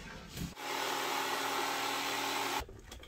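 A power saw trims about three quarters of an inch off a wooden board during a van build, a loud, steady two-second cutting whine that starts and stops abruptly.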